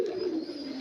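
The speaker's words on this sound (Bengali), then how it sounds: "এই যে পায়রাগুলোর ডাক দেখেন" Pigeons cooing on a rooftop, a steady low murmuring call running through the whole short stretch, close and fairly clear with no talk over it.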